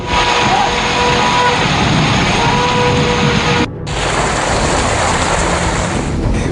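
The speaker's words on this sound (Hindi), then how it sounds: "बेमौसम तेज बारिश ने लोगों को दिया डर।" Heavy unseasonal rain pours down steadily and loudly as Cyclone Yaas approaches eastern India, a dense unbroken roar with storm rumble mixed in and no voices.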